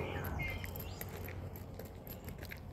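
Birds call and chirp in a wooded section of a nature walk around Stirling University, short tweets and whistles scattered over a steady rustling outdoor background, moderately near and without talk.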